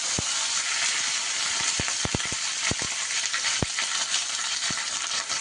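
Black mustard seeds and curry leaves frying in hot oil, a steady close sizzle with sharp pops and crackles scattered irregularly through it, and no voices.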